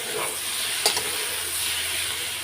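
Spices, onion, garlic, tomato and green chilli fry in a pan for a meat curry, giving a steady, even sizzling hiss with a brief clink partway through.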